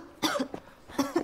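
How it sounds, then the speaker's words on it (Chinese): A person with a slight cold coughs indoors, two close, fairly loud bursts with a short pause between them. "怎么咳嗽了？"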